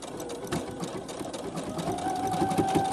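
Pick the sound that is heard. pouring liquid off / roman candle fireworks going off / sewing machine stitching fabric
sewing machine stitching fabric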